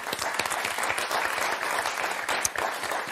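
Studio audience on the French game show Motus clapping for contestants, dense, steady applause of many hands, loud and close for the full stretch, with no voices on top.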